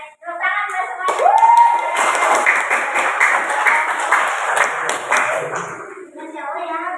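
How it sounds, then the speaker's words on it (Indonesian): Audience clapping during an Islamic study session on menstruation rules, starting after a brief voice and continuing for several seconds under talk, with a voice resuming as it fades. "Oke, tepuk tangan buat semuanya."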